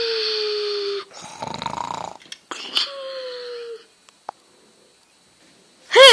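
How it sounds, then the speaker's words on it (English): Loud nasal snoring from a person resting after a long wait, several uneven drawn breaths with gaps of near silence and a final strong snort. "I thought robots couldn't snore"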